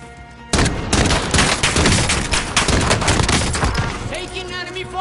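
Enemy gunfire in a shooter game: a sudden loud barrage of rapid automatic shots, dense and continuous for several seconds, then tapering, with a voice faintly audible under the firing.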